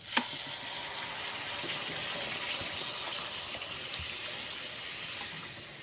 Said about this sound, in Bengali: এবার এর মধ্যে আমি পরিমাণ মতন জল দিয়ে দেবো